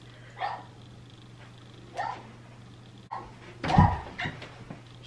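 A dog barks in short separate bursts, two fainter yips early on and then a louder, closer cluster of barks near the end, over a steady low electrical hum in an indoor room.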